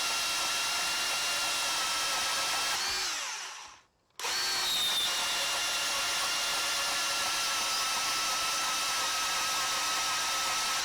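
Ryobi 18V cordless band saw cutting galvanized angle metal: a steady, loud whining motor with a grinding cut, a brief pause where the tool stops and restarts, then a continuous run, close by with no talk.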